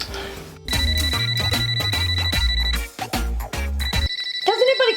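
A telephone rings loudly in repeated electronic bursts over music, with a pause near the end before another ring begins.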